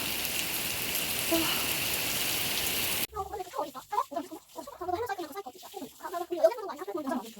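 Heavy rain falls as a dense, steady hiss for about three seconds, then the sound cuts to a person talking with no rain audible.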